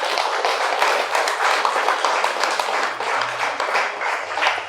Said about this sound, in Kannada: ಅವ್ರಿಗೆಲ್ಲ ಜೋರಾಗಿ ಒಂದು ಚಪ್ಪಾಳೆ ಕೊಡೋಣ.